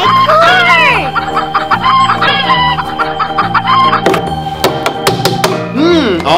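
Toy chickens at a pretend-play food drive-thru cluck and squawk in a loud, steady stream of overlapping electronic-sounding calls, with a rising crow-like squawk toward the end.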